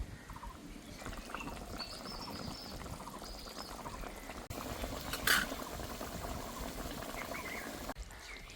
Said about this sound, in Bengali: ঝোলটা ভালো করে ফুটে গেছে।